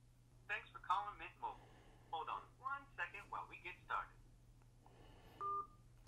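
Phone call to the Mint Mobile 611 line, with a string of crisp keypad dialing tones beeping in quick succession, close and clear, followed by a single longer tone over a faint steady hum.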